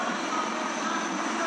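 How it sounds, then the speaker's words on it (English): Military helicopters flying over in Vic formation at a Republic Day parade, a steady, loud, close engine and rotor roar that holds unbroken throughout. "helicopters in Vic formation as they move forward."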